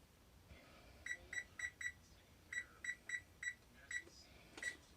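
Short electronic beeps from a kitchen timer being set for baking a chicken pot pie, a quick burst of four chirps, a pause, then several more spaced beeps, clear and close in a quiet kitchen.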